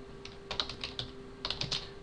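Brief bursts of quick, light keystrokes on a computer keyboard, close and quiet, in two short clusters with a pause between.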